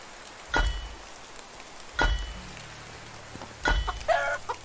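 Several short hen clucks from chickens in the video game Medieval Dynasty, at spaced intervals over a quiet background hiss, with a faint rumble in between.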